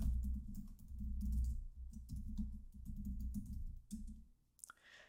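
Quiet run of keystrokes on a computer keyboard while entering login details, with soft irregular taps over a low steady hum, pausing briefly near the end before a few sharper clicks.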